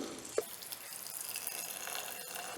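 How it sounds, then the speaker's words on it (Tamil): Water is poured onto raw rice in a grinder to make dosa batter in a Jaffna home kitchen, giving a faint, steady splashing trickle with one brief sharper splash near the start and no talk. "நாங்கள் அரிசி மட்டத்திலும் கொஞ்சம் குறைச்சி தான் தண்ணி விட வேணும்"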